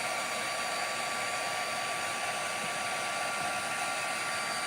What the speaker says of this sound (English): And then you take your embossing gun.